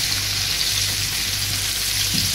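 Cabbage and porcini mushrooms frying in a pan, a steady close sizzle with a constant bright hiss and no talk over it.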